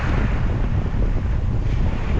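Constant rushing roar of ocean surf and heavy waves on a beach, blended with strong wind buffeting the microphone, loud and unbroken with no voices.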